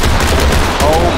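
Rapid gunshots in the tactical shooter Ready or Not, loud close bursts fired in quick succession over a dense, noisy background, with voices audible during the shooting.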